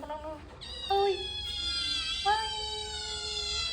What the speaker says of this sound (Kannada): ಕ್ಯಾಟ್ ಇದ್ದಾವೆ, ಪುಸಿ ಕ್ಯಾಟ್ ಓಡಾಡ್ತಾ ಇದ್ದಾವೆ.